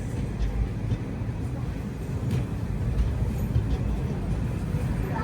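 A train hauled by a WAP-7 electric locomotive at Gudivada junction gives a continuous low rumble of rolling wheels, steady and fairly close, with faint voices in the background.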